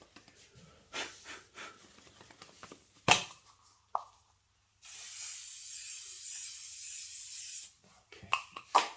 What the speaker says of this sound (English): Spraying and then working again.